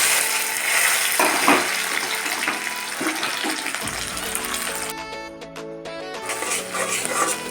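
Onion, tomato and spices with cardamom, cinnamon and cloves frying in hot oil for a lote fish curry, a loud, steady, close sizzle and hiss that shifts in texture partway through and carries on without pause.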